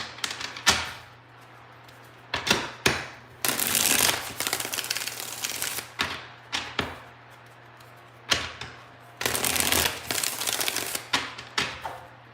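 Bursts of rapid fluttering card riffles alternate with sharp taps and snaps, several shuffles in a row with short pauses between.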